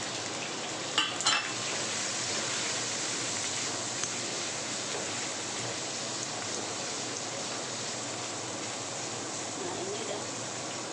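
Peeled shrimp stir-fried in a hot pan for a Taiwanese-style garlic chive dish, giving a steady, fairly loud sizzle with a brief clatter near the start and no talk over it.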